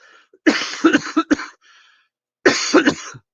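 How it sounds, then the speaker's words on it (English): Someone coughs in a quick cluster of harsh bursts, goes quiet for a moment, then coughs again, close up. "I don't know why I'm coughing"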